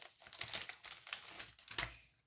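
A handmade paper envelope being torn and opened up close, with a run of sharp crinkling and ripping bursts that trail off into quiet.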